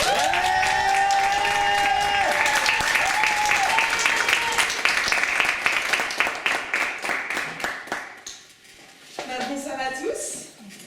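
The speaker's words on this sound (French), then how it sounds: "Et donc je vous demande d'applaudir," Loud audience applause and cheering greets Oriane as she comes on for a stand-up comedy set, broken by a host's voice over the clapping early on, then fading to scattered claps before a voice speaks near the end.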